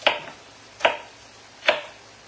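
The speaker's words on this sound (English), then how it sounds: "So we're just going to cut these up, chop them up a little bit fine." A knife chops peppers on a cutting board with three separate crisp strikes, spaced evenly about a second apart. Each one is close and clear against a quiet kitchen.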